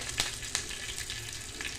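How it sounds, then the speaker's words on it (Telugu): Tempering spices (cumin, chana dal, urad dal) sizzle steadily in a hot pan, a continuous close frying hiss with a few sharper crackling bursts, no talking. "ప్యాన్ వేడైందండి వేడయ్యాక పోపు దినుసులు వేసుకుంటున్నాను"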